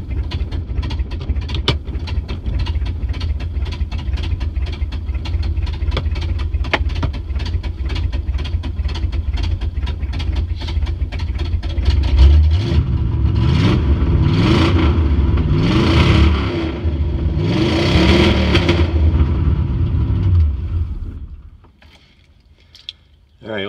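A 1953 Studebaker engine runs at a steady, rough idle in gear, then revs up in several loud swelling bursts before dropping away and falling nearly silent at the end, close up.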